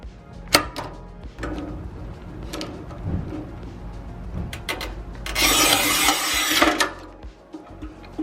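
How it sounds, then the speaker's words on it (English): Monster RTC Razor tile cutter scoring 12 by 24 inch porcelain tile, a few scrapes and clicks followed by a harsh gritty rasp about a second and a half long as the wheel drags across the surface, close up with no talking. "Let's score this 12 inch by 24 inch porcelain."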